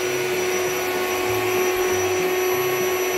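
Steady, loud motor whine and rushing air from an electric pump inflating blow-up beds aboard a boat, continuous and close without pause.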